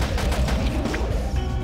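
Rapid machine gun fire in the zombie survival video game Deadly 30, a dense stream of overlapping shots with low booms, sustained and fairly loud.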